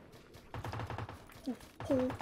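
Gunfire in the battle royale game PUBG: Battlegrounds: a quick burst of rapid shots after a short lull, followed by a few louder bangs, mixed with other game sounds and some voice.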